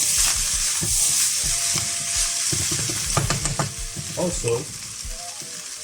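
Spam fried rice sizzles loudly in a hot pan while being stirred and tossed, a constant crackling fry broken by scraping and clattering stirs close by, with a brief spoken word.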